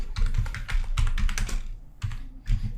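Someone types HTML code on a computer keyboard, producing close, crisp clusters of key clicks in quick irregular bursts with brief pauses between them; nobody speaks.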